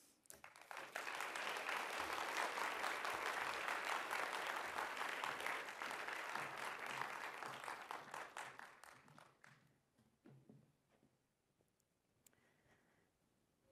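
Warm audience applause welcomes mathematician Ruth Charney to a lecture hall, a dense steady clapping for about nine seconds that thins into scattered claps before quiet.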